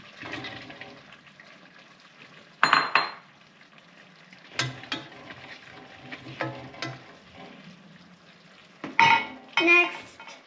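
Okra goes into a cooking pan for pinakbet and gets stirred, with intermittent sizzling bursts, scraping and clinking of a utensil against the pan, close and fairly loud with quiet gaps between.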